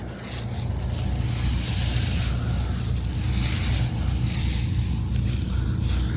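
A combine harvester runs steadily in a wheat field, a continuous loud low rumble with broad wind-like hiss on top, no voices.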